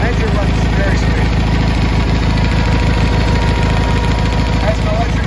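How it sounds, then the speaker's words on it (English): A John Deere 318 lawn tractor engine idles smoothly and loudly up close, a steady, even mechanical rumble with rapid regular pulsing throughout and no pauses. "Engine runs very smooth."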